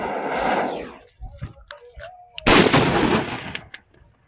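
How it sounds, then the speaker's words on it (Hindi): A loud Diwali "King Bomb" firecracker fizzes and crackles as the fuse burns, then bursts midway with a sharp, heavy bang that rings out and slowly fades. "ये किंग बम में आग लगाते हैं"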